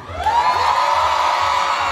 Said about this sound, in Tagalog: Magpalakpakan po na may kasama sigawan nagsasabing maganda si Tekla.